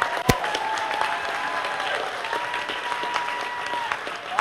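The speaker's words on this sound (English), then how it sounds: "Let's give these twins a round of applause." An audience at a Down syndrome association calendar event applauds a pair of twins, giving full, sustained clapping with one sharp loud clap near the start and faint voices mixed into the crowd.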